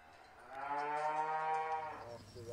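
A cow on a British organic farm lets out a single long, loud, close moo that swells and fades over about two seconds, with nothing else competing.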